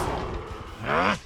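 Expelliarmus spell cast in the Hogwarts Legacy video game on Xbox Series X: a loud, dense magical blast with a rising whoosh toward the end, ending in a sharp burst.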